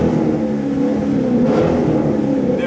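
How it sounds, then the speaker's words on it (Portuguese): A Corvette engine revs and accelerates in a steady, loud, close drone that swells slightly midway, alone with no voices. "vou dar uma acelerada aqui pelo seu like"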